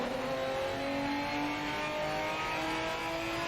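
Race car engine in the Project Motor Racing video game, a steady sustained drone with shifting engine tones held at a constant loud level throughout, with no talk.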